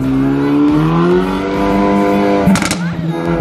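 A car fitted with a variable exhaust system revs loudly, its engine note climbing steadily in pitch, then a sharper burst of revs near the end; a voice may be faintly present underneath.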